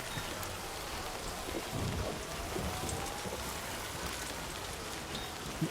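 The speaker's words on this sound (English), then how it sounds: "The rain is not stopping." Steady heavy rain hisses throughout in the video game Death Stranding 2, with low rumbles of thunder rolling underneath and no one speaking.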